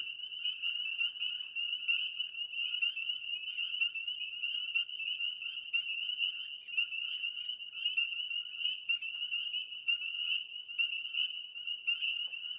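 A dense, continuous chorus of frogs croaking and trilling in high, buzzing pulses, steady and fairly loud throughout with no voices.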